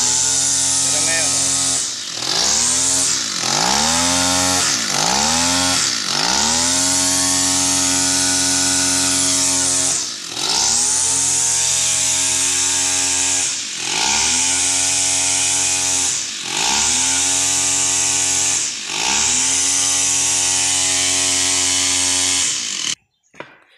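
A grass cutter's small two-stroke engine runs after a repair to its flooding carburetor. It revs loud and close in repeated rising and falling bursts, settles into a steady drone, then cuts off at the end.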